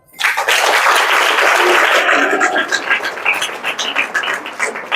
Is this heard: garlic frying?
no